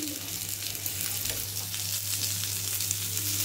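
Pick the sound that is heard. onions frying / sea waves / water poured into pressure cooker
onions frying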